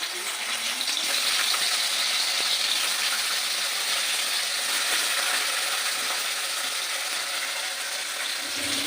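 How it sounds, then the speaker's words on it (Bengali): Bata fish fries in hot oil with a steady, loud, crackling sizzle that holds evenly throughout, with no voices. "এবার ওই মাছটা একটু হালকা করে ভেজে নেবো"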